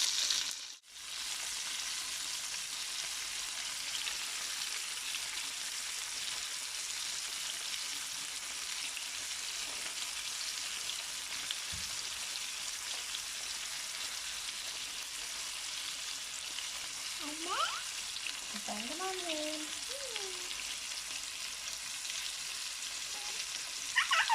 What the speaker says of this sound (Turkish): Evet köftelerimiz de kızardı.